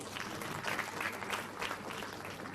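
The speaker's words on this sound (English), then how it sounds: "Nobody shies away from clapping for themselves." An audience at a poker awards ceremony claps for itself, with steady dense applause from a moderately distant crowd filling the room without pause.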